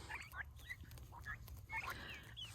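Heritage turkeys of the Bourbon Red, Blue Slate and Royal Palm breeds call in a garden, several short gobbling and clucking bursts at moderate distance over a steady low background hum.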